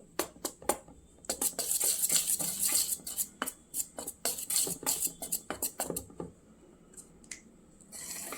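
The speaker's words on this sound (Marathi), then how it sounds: "की छान फेटून घ्यायचं, म्हणजे आपला केक छान असा फुलतो" Home-made cake batter being beaten in a bowl, with quick irregular clinks and scrapes of a utensil against the dish coming in bursts and short pauses, close and fairly quiet, no voices.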